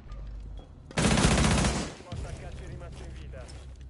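A rapid automatic burst of gunfire erupts in a Rainbow Six Siege match on the Burnt Horizon map, loud and lasting about a second, framed by players talking before and after.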